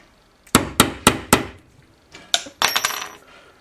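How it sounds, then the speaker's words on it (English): Four sharp metallic taps in an even rhythm, a short pause, then a quicker cluster of ringing knocks as a drill bit's pointed tip punches a hole in a small metal shell case. "using the pointed tip of the drill bit to make a hole in the centre of the case."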